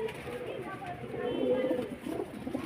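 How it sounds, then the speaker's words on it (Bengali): Large pigeons coo in a cage, soft low repeated cooing at moderate distance, with a person talking over them. "একদম বড় সাইজের পায়রা, খুব ভালো কোয়ালিটির পায়রা।"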